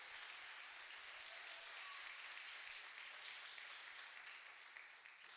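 A church congregation claps in steady, even applause, a fairly faint and distant wash of hands with no voices, swelling slightly at the very end.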